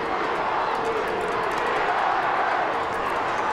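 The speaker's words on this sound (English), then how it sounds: "And you could just hear the TIGs and the ERSs in that packed stadium crowd." A packed stadium crowd at a Massillon Tigers versus Canton McKinley Bulldogs high school football game roars steadily in the fourth quarter, a dense, continuous wash of voices that may carry a chant.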